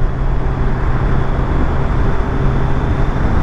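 A 2021 Suzuki Hayabusa motorcycle cruising on the road, a steady engine drone with rushing wind noise, constant and close.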